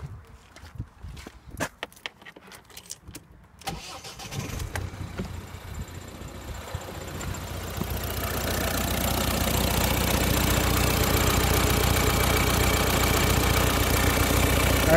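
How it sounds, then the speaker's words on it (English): After a few handling knocks and clicks, a Ford Focus 1.6 TDCi diesel engine cranks, fires and settles into a steady, rattly idle that grows louder and holds, heard close up with no talking. "start the car"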